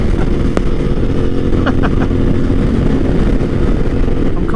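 A Yamaha Ténéré T7 adventure motorcycle on the move, with a steady, loud engine drone and road and wind roar filling the whole stretch without a break.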